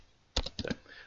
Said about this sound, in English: You would type in the blog